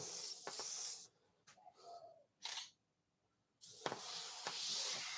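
Airbrush spraying thinned paint at somewhat low air pressure, a close, soft hiss in two main bursts separated by a quieter gap with brief faint puffs, then resuming.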